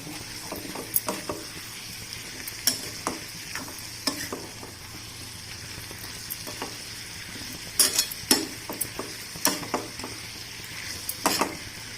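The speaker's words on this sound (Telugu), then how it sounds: "బాగా మిక్స్ చేసుకోవాలి" Curry is stirred in a frying pan in a home kitchen, with scraping and clinking strokes at an irregular rhythm over a steady low sizzle. The sounds are close and moderately loud, and no one speaks.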